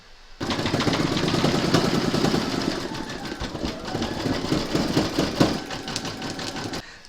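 An embroidery machine runs steadily as it stitches the beard of a large appliqué gnome. Its close, rapid mechanical whir and needle clatter start abruptly and keep going, loud and unbroken.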